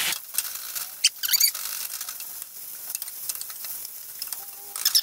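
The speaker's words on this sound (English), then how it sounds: "And then I am just gonna stir all of this in." Meat is stirred with melted topping in a hot pan, with a close, steady sizzle and intermittent scraping and clattering strokes of the stirring utensil, and no voices.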